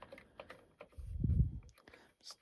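Keys clack on a vintage TI-99/4A computer keyboard during repair testing, a few quick taps and then a heavier cluster of key presses, with some talk around them.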